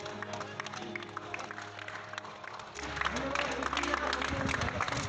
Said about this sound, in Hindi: एक तो वायरस पर फतह की खुशी और उस पर तालियों की गड़गड़ाहट।